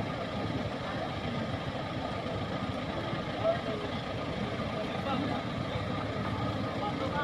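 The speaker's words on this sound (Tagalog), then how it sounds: "Ito po, mga truck ng China po yan." Trucks from China idle with a continuous low, rumbling engine drone that stays steady at moderate distance, while people talk over it.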